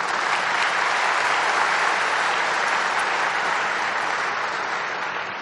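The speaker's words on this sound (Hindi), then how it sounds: "ताली बजा दो।" Sustained applause from a seated audience at a spiritual gathering, broad and even from start to finish, easing slightly at the very end with no speech over it.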